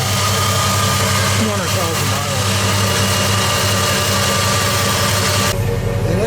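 A 4.7 V8 in a 1999–2004 Jeep Grand Cherokee WJ with around 200,000 miles, just fitted with a repaired exhaust manifold, runs loud and steady close by, with a deep idle rumble that sharpens near the end.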